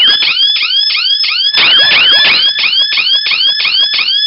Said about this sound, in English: this siren will stay on for a minimum of 5 seconds until that LED goes out